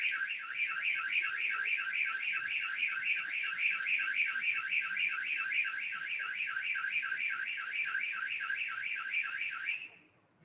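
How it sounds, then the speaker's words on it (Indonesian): A Dahua XVR DVR with SMD Plus human and vehicle detection sounds its alarm: a loud, steady electronic warble repeating rapidly and evenly for about ten seconds before cutting off abruptly, with no voices. "Kita tunggu alarmnya mati dulu."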